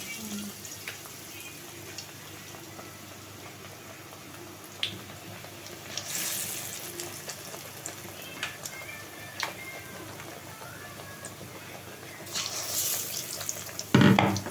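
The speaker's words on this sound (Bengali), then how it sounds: "এই যে দিলাম, কড়াইতে দিচ্ছি। তেল তো গরম হয়ে গেছে, দিয়ে দেবো।" Eggplant fritters (beguni) fry in hot oil in a wok with a quiet, steady sizzle, marked by two louder hissing bursts as more pieces go in or get stirred.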